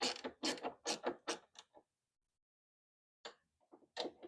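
A wrench tightens the hood support bolt on a C3 Corvette, giving a close run of quick ratcheting clicks, a long silent pause, then a few more clicks.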